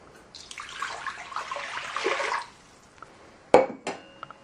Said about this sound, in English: we're going to put the same amount of water into the Frigidaire from the same container.